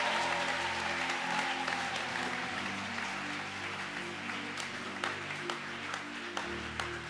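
Church congregation at a Sunday morning service breaks into sustained applause and cheering, a dense crowd wash with sharper claps standing out, heard over a low sustained keyboard or organ chord.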